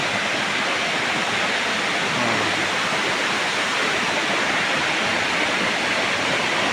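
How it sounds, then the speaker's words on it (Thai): A wide waterfall in a forest during the rainy season roars steadily and loudly, a constant rushing wash of falling water with no breaks. "ด้านนี้นะครับคือน้ำตก"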